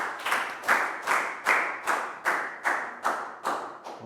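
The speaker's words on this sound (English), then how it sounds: "Big round of applause for Net." A primary-school class applauds a pupil during an English lesson with a round of evenly spaced, unison claps, about two per second, each a sharp burst that fades quickly. Fairly quiet and heard without talk.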